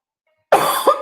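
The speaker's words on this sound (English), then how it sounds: "was a smoker's cough." A single harsh cough bursts out abruptly after near silence, a rough, phlegmy smoker's cough that breaks into a second hacking spasm before trailing off, close and loud.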